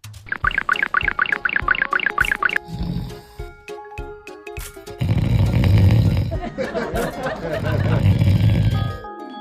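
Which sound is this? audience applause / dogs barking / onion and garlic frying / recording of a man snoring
recording of a man snoring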